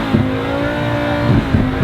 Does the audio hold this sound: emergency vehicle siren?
no